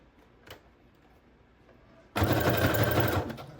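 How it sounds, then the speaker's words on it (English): A sewing machine stitches onto a cereal-box junk journal, starting abruptly after a quiet pause and running in a loud, fast, continuous burst to the end. "sew them on"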